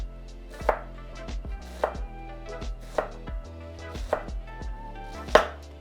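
A knife dices pork belly into small pieces on a cutting board, striking in a steady rhythm of about half a dozen crisp, close chops.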